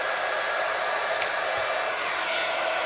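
An embossing heat tool blows hot air over gold leaf, making a steady, close, loud whooshing hiss that holds unchanged for the whole stretch.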